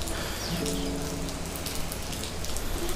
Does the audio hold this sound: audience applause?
no